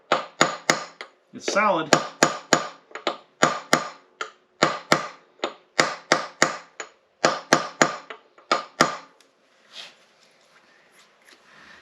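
A pilot bearing tapped into its seat with a piece of brass during a 1937 Ford flathead clutch install, heard as a close run of sharp metallic taps in quick groups that fade at the end, with a brief spoken remark.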